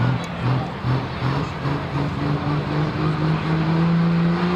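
A pulling tractor at a truck and tractor pull, engine held at steady high revs with a rising drone that slowly climbs in pitch, loud and continuous across the stretch, with crowd or announcer murmur underneath.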